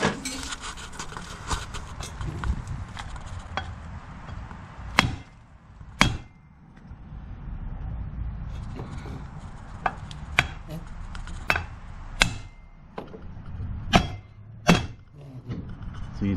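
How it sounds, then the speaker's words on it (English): Hammer blows knocking a driveshaft out of its yoke, about nine sharp metallic strikes spaced irregularly over shop background noise, loud and close. "next I'm just going to hit it with a hammer and try and knock it out"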